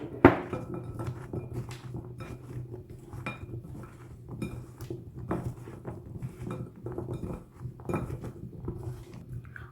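A spoon scrapes and clinks against a bowl while cauliflower is mixed with flour, salt, black pepper and paprika for a marinade, with soft irregular taps and knocks, fairly quiet and close, with no talking.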